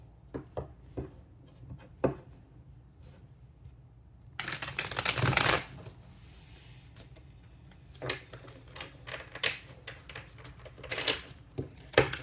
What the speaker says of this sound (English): I'm just going to shuffle this and cut it real quick.